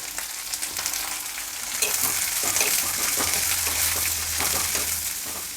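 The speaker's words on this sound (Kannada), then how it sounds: "ಈಗ ಹಚ್ಚಿಟ್ಕೊಂಡಿರೋವಂಥ ಈರುಳ್ಳಿನ ಹಾಕ್ತಾಯಿದ್ದೀನಿ" Chopped onions frying and being stirred in a pan for a quick dosa filling; a steady sizzle with repeated scraping stir strokes, close and fairly soft, with no voices over it.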